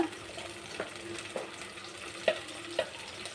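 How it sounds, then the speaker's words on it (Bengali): Onion and ginger-garlic paste sautéing in oil in a pan for a fish curry with plantain and potato, a soft steady sizzle broken by a few sharp spoon scrapes and stirs. "পেঁয়াজটা ভেজে সামান্য একটু আদা রসুন বাটা দিয়ে দিচ্ছি, আদা রসুন বাটা একটু কষিয়ে নিচ্ছি"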